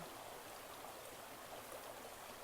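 A brook at Sky Lake flows in a soft, continuous babble, faint and steady, heard alone without talk.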